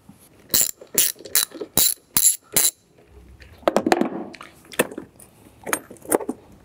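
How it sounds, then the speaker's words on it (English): Clicking ratchet strokes from a 10mm socket loosening the negative battery terminal on a 2011-2018 Jeep Wrangler JK, a burst of about six sharp close clicks, then a looser metallic rattle and a few scattered clicks. "we're gonna go ahead and disconnect our negative terminal with our 10mm socket"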